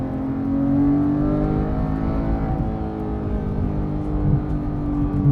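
A Porsche 911 GT3 (991.2) engine drones and revs loudly with a rising, steady harmonic howl, sustained throughout as the car keeps moving.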